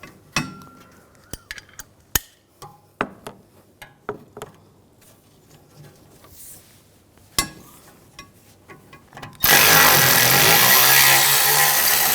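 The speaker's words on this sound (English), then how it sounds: "Using a 16mm socket, I'm going to take these caliper bracket bolts out." Sharp metallic clinks and taps of a 16mm socket and tools work the rear caliper bracket bolts on a 2007-2013 BMW 328i, then a loud, continuous power-tool whir takes over at the end.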